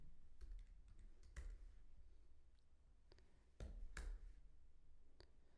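Quiet computer keyboard typing during a Python coding demo, with scattered light clicks in short runs and a couple of louder key strikes over a soft background hiss.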